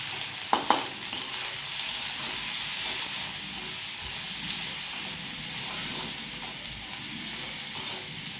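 Pomfret fish stirred with turmeric in a hot pan, a continuous bright hissing sizzle with a few sharp clinks of the spatula early on, close and steady throughout.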